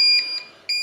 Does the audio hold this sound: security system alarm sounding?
yes